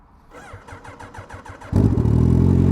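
A turbocharged, heavily modified Suzuki Hayabusa motorcycle cranks with a rapid rhythmic starter whir, then fires and settles into a loud, steady high idle close by.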